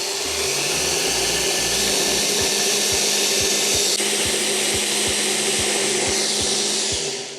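A blender grinds hazelnuts and cacao into nut butter in a loud, steady whir, with rapid rhythmic knocking of the nuts against the jar as the motor runs without pause.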